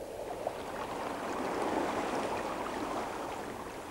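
Broadband wash of water surging back in as the incoming tide floods a drying shore, a steady continuous rush that swells slightly midway, with no voices.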